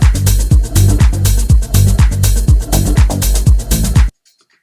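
A muddy, loose bass line thumps through a full electronic mix, with boomy low notes pulsing in a steady rhythm under drums and synths, loud and dense, then cutting off abruptly near the end.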